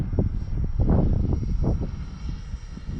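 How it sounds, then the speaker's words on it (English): A small radio-controlled model airplane, an X-Fly T-7A Redhawk, drones steadily overhead, its buzzing engine loud and constant with a faint hiss of wind. "very stable flying little plane"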